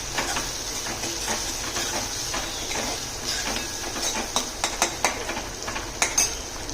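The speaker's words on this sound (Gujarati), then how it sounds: "અને ટામેટાને પણ આપણે ખૂબ જ એવું સરસ પકવી લઈશું, જેથી કરીને અને તેલ એકદમ સરસ છૂટું પડી જાય" Tomatoes frying in oil with onions and garlic-ginger-chili paste, stirred with a spoon that scrapes and taps the pan in quickening clinks over a constant sizzle, close up with no talking.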